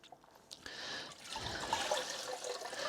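Cold tap water runs steadily into a basin of hand-dyed socks left to soak, a close, continuous splashing rush that starts after a brief quiet moment and holds for a few seconds.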